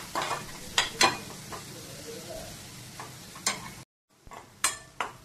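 Onion sautés in a pan toward golden, a low sizzle punctuated by sharp spatula scrapes and taps, with a brief silent gap before the stirring resumes.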